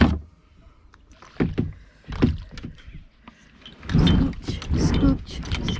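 Kayak paddles dip and splash in water on a hot day, coming as irregular near bursts of sloshing, with a louder stretch of splashing toward the end.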